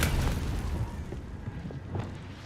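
Confringo fire spell blasting in Hogwarts Legacy, a dense low rumbling boom that opens loudly and rolls on as a continuous crackling roar with smaller bursts scattered through it.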